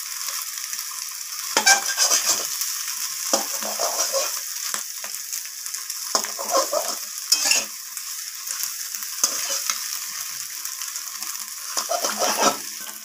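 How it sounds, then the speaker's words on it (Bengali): Eggs being cut up and fried with a metal spatula in a wok, close-up: a steady loud sizzle with repeated scraping, clattering strokes at an irregular rhythm. "তো আমি খুন্তির সাহায্যে ডিমগুলোকে এইভাবে কেটে নিচ্ছি"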